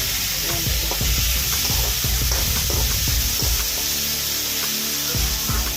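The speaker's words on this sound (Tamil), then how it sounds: "வெங்காயமும் தக்காளியும் நல்லா வதங்கி வச்சு" Steady sizzling of onions and tomatoes sautéing in a pan, with intermittent stirring clatter and scraping, continuous and fairly loud throughout, no voices.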